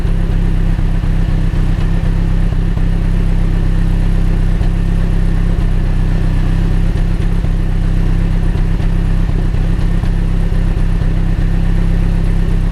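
A car engine idling with a steady low exhaust rumble and faint whirring, close at the exhaust, with something not right, continuous and with no talking.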